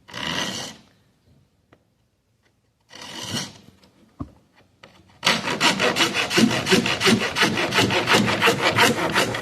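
A rip-cut hand saw rasps steadily through wood in quick rhythmic strokes, close and loud, after a couple of short scraping starts separated by silence.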